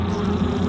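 Honey bees not native to Japan, a species brought in during the last century for heavier honey yield, buzz as a dense steady drone of many wings close by and alone for under a second.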